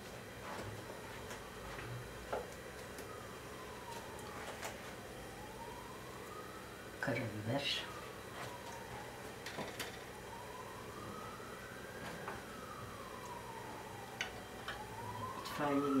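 An ambulance siren wails through a long rising and falling cycle as the vehicle passes at a distance. It stays moderately faint under soft ticking and background sounds, with occasional nearby clatters.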